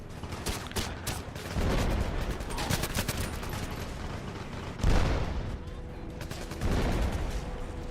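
Rapid bursts of automatic gunfire in a shooter video game, loud rattling volleys coming in waves with heavier thumping impacts between them and no pauses of real quiet.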